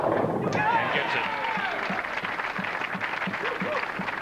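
Crowd applause greets a strike in professional bowling, a steady wash of clapping running under a commentator's voice at a televised tournament.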